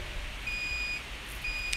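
Two clean electronic beeps, each a steady tone under a second long, separated by a short gap over faint background hiss.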